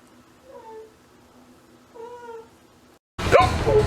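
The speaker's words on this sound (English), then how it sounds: "you mean the kitty cat?" A kitty cat meowing twice, two clear drawn-out mews spaced about a second and a half apart in quiet surroundings, followed by a sudden burst of louder noise.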